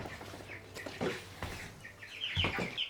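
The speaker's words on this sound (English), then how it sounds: "a shed here that I've converted into a brooder for my 600 birds" Young chickens in a shed converted into a brooder, about 600 birds, chirp and peep in a soft busy chorus with scattered rustles and thumps, fairly faint.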